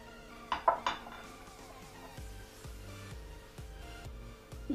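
A whisk clinks and scrapes around a bowl of cake batter with flour, rhythmic knocks against the side repeating softly and steadily, faint and close with no talking.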